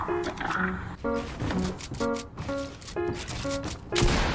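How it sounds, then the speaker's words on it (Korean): Rapid bursts of automatic gunfire in the video game Fortnite ring out in repeated volleys with short gaps, loud and close, with game effects layered in. "총소리가 나는 곳으로 가보는데"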